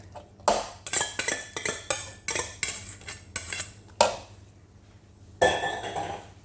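Beetroot salad stirred in a bowl with a metal spoon: a quick run of close, bright clinks and scrapes against the bowl, then a pause and two more sharp strokes.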